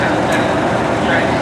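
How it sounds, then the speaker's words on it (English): A Class 37 diesel locomotive at Stafford station, a loud, steady engine roar and rumble filling the platform without a break. "This is a Class 37 diesel locomotive."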